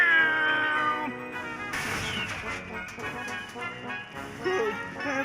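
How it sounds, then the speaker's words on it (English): A cartoon cat lets out a loud, drawn-out meow that turns into a caterwaul in Wallace & Gromit's Grand Adventures, mixed with game music and sound effects. "Meow!"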